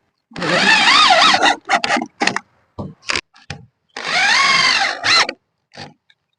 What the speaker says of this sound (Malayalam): അപ്പൊ കൃത്യം ഈ ഗ്രൂവിലേക്ക് ചെയ്യാവുന്ന രീതിയിൽ പ്രഷർ പ്ലേറ്റ് അടിക്കാം.